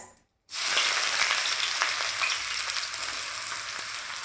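Onion frying in hot oil with a bay leaf, a steady bright sizzle that bursts in after a brief silence and holds loud and close throughout.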